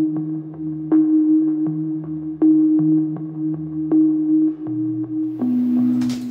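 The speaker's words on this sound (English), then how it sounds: "One of them we've already heard, which is this sine pad." Synth sine pad, heavily filtered with EQ, compressed and drenched in reverb, playing a slow sequence of sustained pure tones that shift pitch every second or so, with a brief noisy burst near the end.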